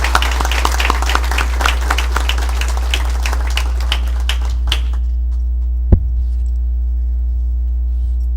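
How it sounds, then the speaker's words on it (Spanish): Applause from an audience after a talk by engineer Edwin Quintanilla at an engineering association lecture, a dense patter of claps over a steady electrical hum that stops abruptly partway through and leaves only the hum and a single thump. "Pido por favor un fuerte aplauso para el ingeniero Edwin Quintanilla."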